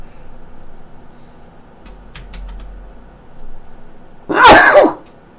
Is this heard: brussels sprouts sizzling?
no